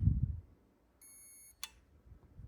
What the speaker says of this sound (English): Now it'll beep twice, once.